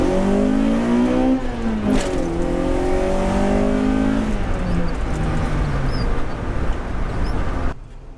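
A Honda Civic with basic bolt-ons and a straight pipe pulls hard in first gear, its raspy engine note climbing loudly before easing off and fading into road noise, with no talking.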